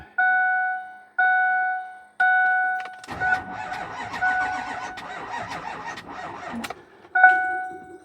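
Three chimes sound, then the diesel engine of a 2009 Ford F-350 6.4 pickup cranks over steadily for several seconds without catching, with weak batteries, ending in a click and another chime.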